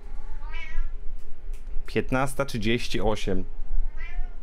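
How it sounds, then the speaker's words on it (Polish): A cat meows several times close by: one short meow, then a cluster of loud wavering cries, then another meow. Steady background noise runs underneath, and a voice speaks briefly. "No hej kocie."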